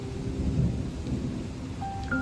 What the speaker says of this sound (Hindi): ओ बादल गरज रहे हैं